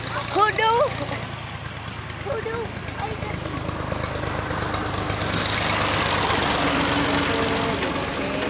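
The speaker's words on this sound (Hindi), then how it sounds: "लकड़ियों का भरा हुआ ट्रैक्टर" A tractor loaded with wood, a diesel engine rumbling steadily and growing slightly louder as it nears, with people talking over it at the start.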